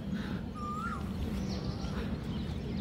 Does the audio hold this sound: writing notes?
no